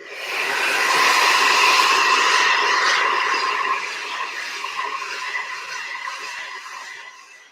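A hair dryer blasts continuously at its highest pressure on medium heat while styling hair with pomade, a loud steady rushing whoosh that eases slightly in level partway through and runs on without speech.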